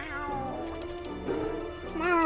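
Cartoonish cat meows from a character in the video game Last Word, a few short voiced mews with rising and falling pitch, heard near and clear over light game music.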